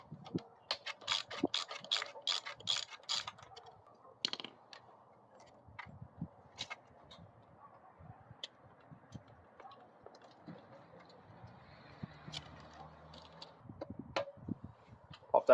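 A ratchet clicks in quick repeated strokes removing two 10mm nuts from the air box of a CT200U-EX trike engine, close but fairly quiet, with softer handling noises in between.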